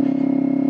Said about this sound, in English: Holy crap, this exhaust is loud.